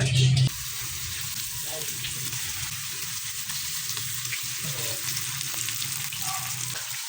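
Dynamite lumpia, cheese-filled wrapped chilies, frying in hot oil, a steady close sizzle and bubbling that holds evenly throughout, after a brief louder burst at the start.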